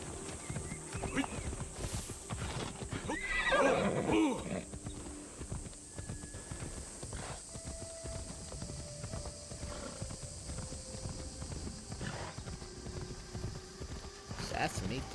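Horse hooves clip-clopping steadily in the Assassin's Creed Shadows video game, with a neighing whinny partway through, while someone talks over it and other game sounds continue.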